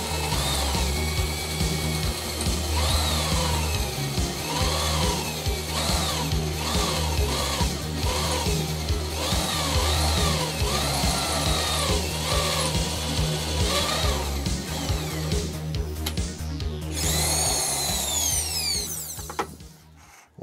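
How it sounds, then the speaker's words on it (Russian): A power drill bores into metal at low speed with a steady, loud mechanical whine that holds for about twenty seconds before winding down and stopping. "Металл всегда сверлится на низких оборотах."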